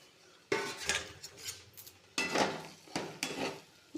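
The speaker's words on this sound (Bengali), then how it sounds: "এর মধ্যে ভেজে রাখা ফুলকপিগুলো দিয়ে দেবো" Fried cauliflower florets tipped into a pan of cooked-down spice masala and stirred with a utensil, giving a few separate bursts of clattering metal scrapes and knocks, close and fairly loud, with quiet gaps between them.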